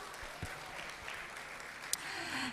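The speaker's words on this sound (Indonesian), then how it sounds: "Mari kita berikan tepuk tangan dulu untuk Ibu Susan." Faint audience applause at a business talk welcoming a guest speaker, a soft, steady patter of clapping heard from a distance with a few sharper claps.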